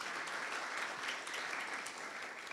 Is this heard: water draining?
no